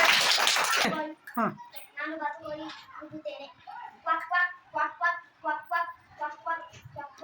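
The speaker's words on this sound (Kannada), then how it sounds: "ವೆರಿ ಗುಡ್ ಚಪ್ಪಾಳೆ." Children clap together in a short, dense burst at the start, then a group of young voices chants or calls out rhythmically in a rising and falling pattern.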